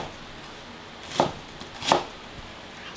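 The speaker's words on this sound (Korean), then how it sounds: "양파도 배처럼 듬듬 썰어줍니다." Two crisp knife chops slicing an onion on a cutting board, spaced less than a second apart, close and clear against quiet background.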